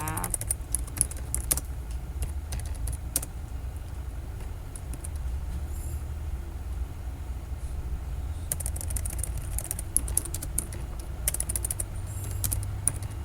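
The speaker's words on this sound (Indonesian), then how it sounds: "Ini Miss lagi ngetik ya" Rapid clicking of computer keyboard keys comes in bursts of typing, near and clear, separated by quieter gaps with a low background hum and no talk over it.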